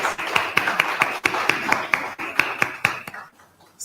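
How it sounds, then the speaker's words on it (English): Audience at a mayoral debate gives a short round of applause, a steady patter of many hands clapping close by that thins out and stops after about three seconds. "Can we give her a round of applause, please?"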